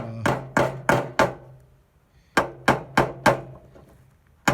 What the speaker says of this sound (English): we're having to do it the old-fashioned way with a hammer and nails